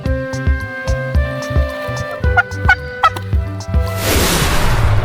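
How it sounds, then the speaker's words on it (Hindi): A turkey gobbles loudly and close by in rapid warbling bursts, followed by a sudden rush of noise at the end. "टर्की को हिंदी में टर्की कहते हैं। ये बड़ा पक्षी होता है और इसकी आवाज मजेदार होती है।"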